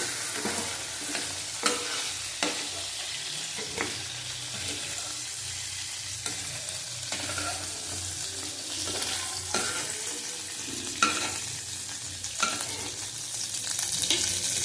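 Frying in oil for a prawn and milk dish: a steady close sizzle runs throughout, broken by repeated scraping stirs and the clinks of a utensil against the pan.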